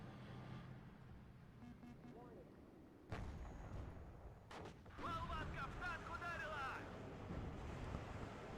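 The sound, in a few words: rockets flying overhead in a video game battle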